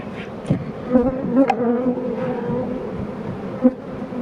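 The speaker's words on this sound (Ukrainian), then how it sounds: "Тут ми просто бджолу женемо, вона зараз повилітає" Bees buzz densely up close around a hive, a busy hum with individual insects darting past in short, louder flurries.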